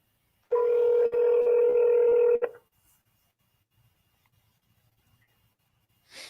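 A personal phone dials out, giving a steady run of loud dialing tones for about two seconds that cut off abruptly, followed by near silence with faint clicks.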